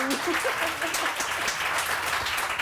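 Scattered clapping from a studio audience on a Pakistani morning TV show set, steady and moderately loud for the whole stretch without a sharp start or end.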